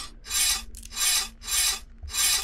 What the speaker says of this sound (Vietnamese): Cây cưa phải dùng để cưa cái tủ này.